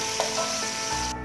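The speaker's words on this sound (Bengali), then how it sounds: "হালকা একটু ভেজে দেবো।" Sliced onion frying lightly in hot oil in a pan for Bengali hilsa pulao, a steady close sizzle with a faint stirring scrape before it cuts off abruptly.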